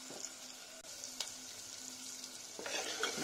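Spices are stirred into vegetables in a pan, giving a quiet, steady sizzle with light scraping strokes and a brief sharp clink; the frying grows slightly louder toward the end.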